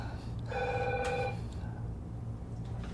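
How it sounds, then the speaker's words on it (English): A telephone rings once in a short bright burst of bell-like tones, fairly clear over a steady background hum, with faint voices in the room. "Answer the phone, boy."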